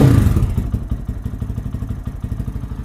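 A Lifan KPM 200 motorcycle with a new performance exhaust and its baffle in place, idling with a steady, close, throbbing putter after an opening rev dies down.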